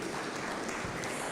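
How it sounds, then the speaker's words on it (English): Dense crowd applause at a university parents' night, a continuous wash of many hands clapping together, steady and even throughout the brief moment. "Let's give them a round of applause."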